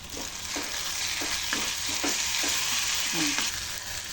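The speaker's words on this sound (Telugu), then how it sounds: "పసుపు వేసుకొని కలుపుకోవాలి." Turmeric being stirred into curry leaves frying in a pan for an egg and tomato curry, with steady sizzling and repeated scrapes of the spoon against the pan, close and continuous with no voice.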